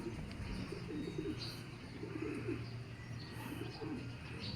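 Ten-month-old pigeons coo softly in a loft, low rolling coos repeating every second or so with a few faint chirps over quiet background hiss, no voices.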